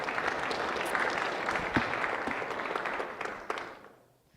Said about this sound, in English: Give Chip a big applause.